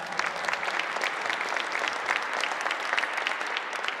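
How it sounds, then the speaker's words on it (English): An audience at a Lunar New Year heritage celebration claps steadily, a dense, even patter of many hands at moderate volume for the whole four seconds. "Let's give them another round of applause."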